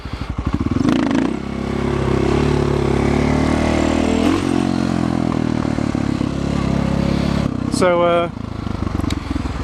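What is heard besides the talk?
motorcycle engine, throttle backed off in first gear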